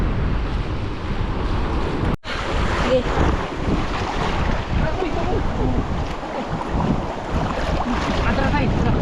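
Ocean waves surge and wash continuously, with heavy wind buffeting the microphone and a boat-like rumble. The sound is loud and close, and a voice speaks briefly over it.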